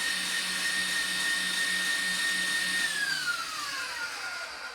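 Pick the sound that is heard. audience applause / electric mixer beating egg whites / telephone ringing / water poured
electric mixer beating egg whites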